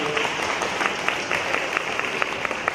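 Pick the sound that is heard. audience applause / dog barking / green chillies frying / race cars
audience applause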